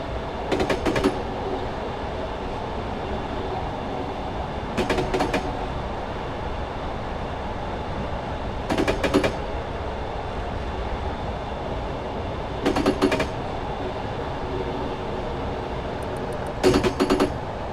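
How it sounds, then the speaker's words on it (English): Train coasting with power idled on the Woodhead route between Sheffield and Manchester in Train Simulator 2017: a steady low rumble of rolling wheels, broken every few seconds by short bursts of clattering rail joints. "I'm just allowing the train to coast down towards 50"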